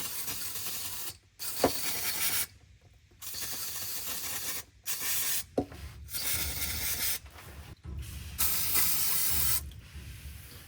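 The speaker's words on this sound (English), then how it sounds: "With brake clean, let's clean it a bit." Brake cleaner sprayed onto a BMW E39 transmission in repeated hissing bursts of one to two seconds, separated by short silences and small clicks, fairly close and loud.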